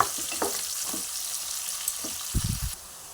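Bitter gourd pieces fry in oil with a continuous soft sizzle, broken by a few scattered stirring knocks and scrapes, quiet and close with no voices.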